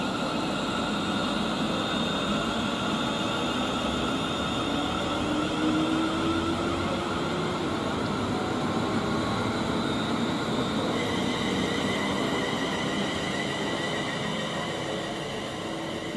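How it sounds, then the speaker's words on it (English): A pair of Class 350 electric multiple units departs Tamworth on the West Coast Main Line, a loud continuous rumble of wheels and traction hum with faint high whines, steady throughout. "now departing is the pair of 350s"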